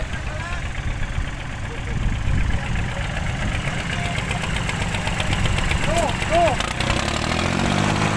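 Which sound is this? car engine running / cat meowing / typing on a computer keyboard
car engine running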